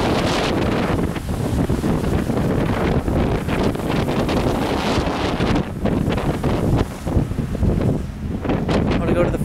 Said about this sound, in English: And it's so windy, look at that.